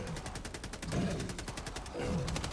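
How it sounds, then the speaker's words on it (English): Rapid automatic gunfire in the video game Helldivers 2, a dense burst of evenly spaced shots running throughout, loud and close, with no talk over it. "I'm just shooting this man."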